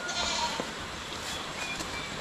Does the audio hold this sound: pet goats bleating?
yes